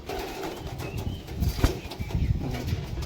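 Tippler pigeons coo in low, soft murmurs while wings flap in short bursts, close by and overlapping, with a sharper flutter near the middle.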